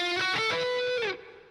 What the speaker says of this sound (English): now I'm going to tag on the high part of the guitar riff